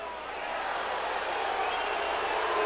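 Dense crowd roar fills a football stadium at an Oklahoma vs. Tulsa college game, a steady wash of voices and scattered cheers at moderate loudness, swelling slightly toward the end, with no clear single voice standing out.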